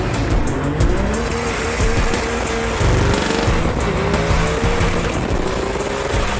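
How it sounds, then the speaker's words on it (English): A GTR in street trim making 800 horsepower drives hard, its engine roaring loud and close with rising and falling revs through gear changes and some tire squeal, continuous throughout. "So what does a GTR with 800 horsepower at the treads and street trim drive like?"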